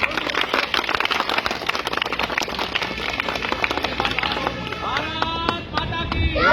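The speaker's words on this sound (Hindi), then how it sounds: "चलिए तो फिर तालियां बजानी पड़ेगी।" Schoolchildren clap together at an Independence Day gathering in a private school, a dense, steady patter of many hands that fills the clip, with voices mixed in.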